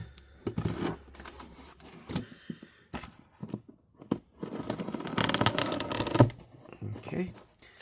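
A plastic protective seal on an HP Spectre x360 15-eb0043dx laptop is cut and peeled away: irregular close crinkling, scraping and tearing bursts that build to a longer, louder rip near the middle, with some talk.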